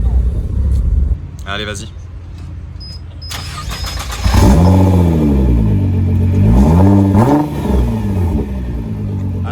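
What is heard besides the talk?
Porsche Cayman GT4 car passing and revving engine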